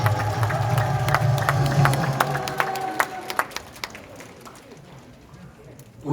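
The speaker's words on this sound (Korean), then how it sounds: "박수!" Audience applause at an outdoor Korean rally, loud sustained clapping and cheering that thins into a few scattered claps before fading.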